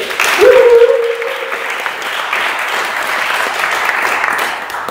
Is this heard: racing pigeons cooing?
no